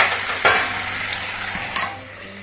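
Food is stirred in a hot pan of banana flower cooked with chicken, with two sharp utensil scrapes against the pan over a steady low sizzle, close and clear.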